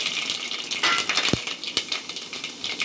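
Fenugreek seeds with mustard seeds and urad dal crackle and sizzle in hot oil while a Tamil fish curry is tempered, a steady frying hiss with sharp pops and one clink of a utensil.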